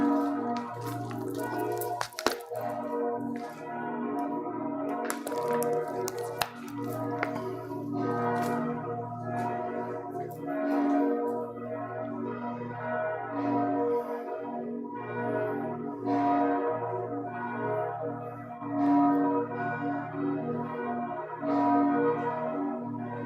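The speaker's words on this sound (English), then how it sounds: "I'm kind of hoping the bells will stop so I can sign off without having to scream." Church bells pealing continuously and loudly for the whole stretch, dense overlapping rings with no speech over them.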